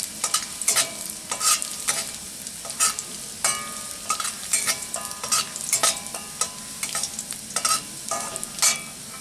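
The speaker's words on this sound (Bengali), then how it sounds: "রসুন দেব, হালকা রসুনটা ব্রাউন হয়ে যাবে।" Garlic sizzles and fries in a pan while a utensil stirs it with repeated scraping strokes, a steady close crackle broken by regular louder stirring bursts and no talking.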